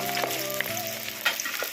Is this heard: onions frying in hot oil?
yes